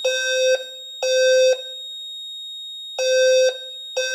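A loud fire alarm horn on a demo board, set off by a pull station, blaring in repeated pulses, two quick blasts, a pause, then more, over a steady high tone.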